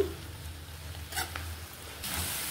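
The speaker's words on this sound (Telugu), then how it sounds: "గ్యాస్ మీడియం ఫ్లేమ్లో పెట్టేసి వేయించుకోండి." Gongura leaves fry in oil over a medium flame, a soft steady sizzle with brief stirring scrapes and a louder burst of hissing near the end.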